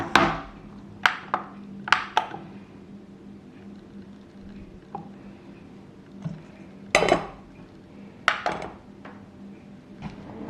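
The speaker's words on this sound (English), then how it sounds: "And then we're gonna mix it with the fork, and we're done." A fork clinks and scrapes against a bowl while flour and salt are stirred together for bread rolls, with sharp, scattered close taps separated by quieter pauses.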